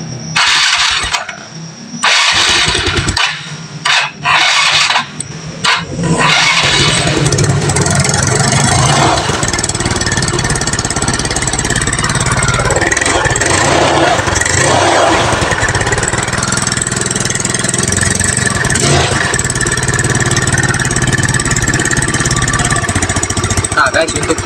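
A scooter engine with a leaking exhaust and a broken exhaust bolt starts and then runs steadily, its loud raspy idle droning throughout. Sputtering and a voice come in the opening seconds.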